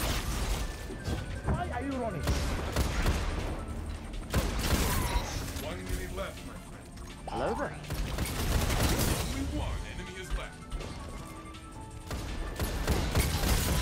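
Dense, sustained video game gunfire, a close string of rapid shots landing one after another with short pauses between bursts, over a busy layer of game effects.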